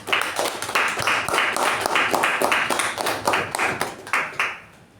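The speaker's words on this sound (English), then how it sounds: "With a huge round of applause" A Toastmasters meeting audience gives a round of applause as a speaker comes to the lectern, dense indoor clapping that holds steady and then tapers off near the end.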